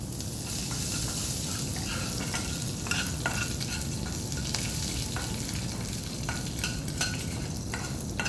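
Curry leaves hit hot oil in a pan and sizzle with a dense, steady crackle close by. The frying hiss continues unbroken for several seconds, with no voices.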